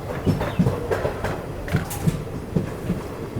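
A passenger train on a Punjab-to-Mahakumbh rail journey slows into Dalmau Junction in the morning, its wheels giving a steady, evenly spaced clickety-clack of low thumps over a constant rumble, fairly close, with no talking.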